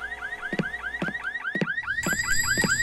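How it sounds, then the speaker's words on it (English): A video game car alarm blares close and loud, a repeating pulsing siren pattern that cycles several times with sharp rhythmic chirps and sweeping wails. "I thought the mechanic had fixed that alarm problem, but apparently not."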